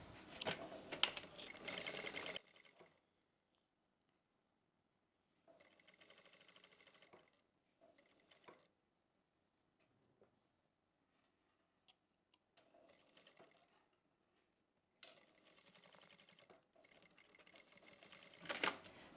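A sewing machine stitches the shoulder seam of a loose umbrella kurti in short, quiet runs of fast ticking separated by silent pauses, with one louder burst at the start and another at the end.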